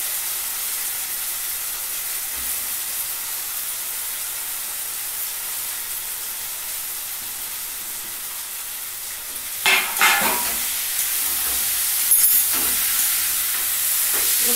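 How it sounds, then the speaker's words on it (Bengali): Chowmein noodles, dried loose beforehand, stir-fried in a pan: a steady hiss of frying runs throughout, with louder scraping and tossing bursts near the end. "এবার কিন্তু চাউমিনটা অ্যাড করে দিলাম।"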